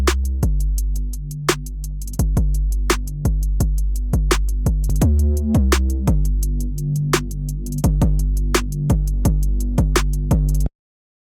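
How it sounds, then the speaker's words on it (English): Punchy 808 bass saturated by the Roar distortion device in a beat, deep booming notes with full mids hitting in a steady rhythm alongside crisp clicking percussion, loud and up close, stopping abruptly near the end. "let's go ahead and take a look at how we can saturate 808s using the roar distortion device"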